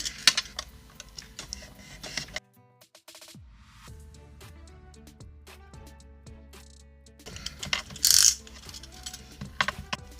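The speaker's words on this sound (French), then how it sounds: "je vais en couper une en deux avec un cutter" A cutter slices through a roll of plastic dog-waste bags, heard as crisp clicking and scraping snips in bursts, with a brief pause midway and a sharper hiss near the end.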